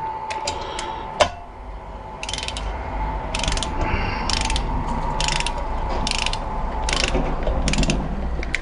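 A ratchet tightening a screw on the cylinder head of a Yamaha Virago 125 motorcycle: repeated bursts of rapid clicking strokes with short pauses between them, close and clear over a low background hum, plus one sharp knock early on.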